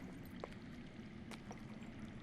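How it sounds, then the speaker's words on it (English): Underground water flows steadily in the Game of Thrones Telltale video game, a continuous wash of rushing, trickling water near a cave, with no talking over it. "I hear water. From underground."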